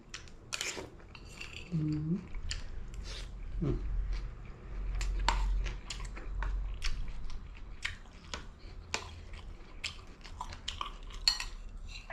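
Someone eats a spicy long bean salad with bamboo shoot soup at a roadside spot in Japan, with close biting and chewing, clinks of cutlery against dishes, and scattered crunches over a low background hum.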